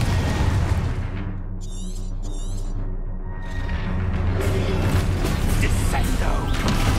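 The Confringo fire spell bursts in the video game Hogwarts Legacy, producing booming, crackling explosion blasts layered over game effects and background score.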